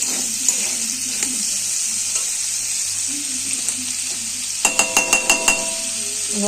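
Chopped onion, tomato and potatoes with salt and turmeric sizzle loudly in a pan, a steady bright frying hiss broken by a quick run of sharp metallic clinks from stirring.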